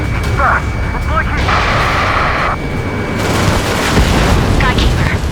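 Missile explosion in the Ace Combat 7 video game during an aerial dogfight, a sustained loud booming rumble with bursts and blasts layered over radio chatter and music throughout.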